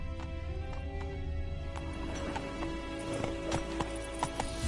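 Roach, the horse in The Witcher 3, clip-clops at a gallop with quick repeated hoofbeats over a steady low rumble, loud and close, and slows near the end.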